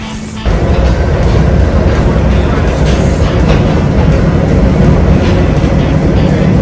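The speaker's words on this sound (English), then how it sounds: "All right, we are on the train ride." Steady rumble of a moving passenger train bound for Union Station in Chicago, a dense low roar with faint rattling that rises after a brief quieter start and holds constant throughout.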